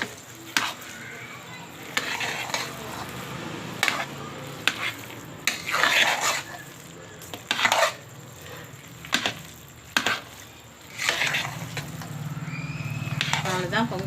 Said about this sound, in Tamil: தாளிச்சதை கொட்டிக்கலாம். கொட்டி கலந்து விட்டுக்கலாம்.